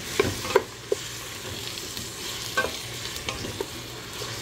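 Fresh tomatoes sautéing in a pan for goat caldereta, a steady close sizzle broken by sharp clicks and scrapes of a utensil stirring and tossing them.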